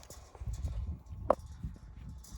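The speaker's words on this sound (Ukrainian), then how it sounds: "Ось такий жеребець." A stallion being trained to pull a cart walks along, hooves clip-clopping in an uneven rhythm close by, with one sharper knock partway through and no talk.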